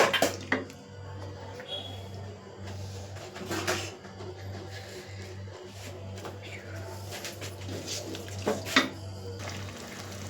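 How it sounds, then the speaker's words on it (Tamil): Water is poured from a kitchen tap into a cooking pot while a potato dish is being made, with running and splashing water over a steady low hum and occasional clatter of cookware. "இப்போ கொஞ்சம் தேவையான அளவு கொஞ்சமாக தண்ணி ஊற்றிக்கலாம்."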